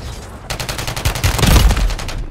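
Rapid automatic gunfire in the Warzone battle-royale video game, a dense burst of repeated shots building from about half a second in and growing loudest toward the end, with no talking.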